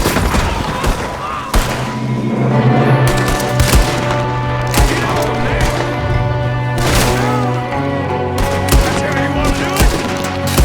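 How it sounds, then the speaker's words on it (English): Repeated gunshots and heavy booms in Red Dead Redemption 2 as a shooter fires from a window, loud cracks at irregular intervals over a sustained low hum and music. "There's another one shooting from the window."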